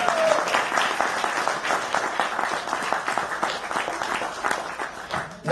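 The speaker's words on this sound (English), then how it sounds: "how about a round of applause for our veterans?" A crowd on Saipan applauds veterans, including a Japanese World War II veteran, with brisk, scattered clapping that stays moderately loud and tapers slightly toward the end.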